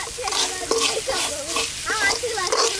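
Curry leaves and spices frying together in oil for a village-kitchen brinjal gravy, a steady crackling sizzle with stirring, while a voice talks over it throughout.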